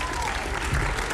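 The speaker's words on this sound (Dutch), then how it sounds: "ik moet hier even zelf klappen" Applause and clapping during a live concert, a loud, dense wash of clapping throughout with a faint voice underneath.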